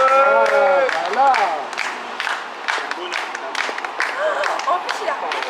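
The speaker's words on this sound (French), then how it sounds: "On applaudit très fort Gaëtan" Audience at an open-stage slam poetry night in Cannes claps and cheers for poet Gaëtan, a dense burst of applause mixed with crowd noise while voices talk over it.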